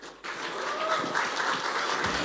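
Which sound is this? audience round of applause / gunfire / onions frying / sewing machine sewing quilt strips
audience round of applause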